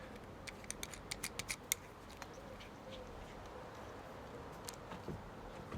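A fitting being screwed on during a camper van build: a quick series of crisp clicks near the start, then a few scattered faint ticks over a steady background hiss.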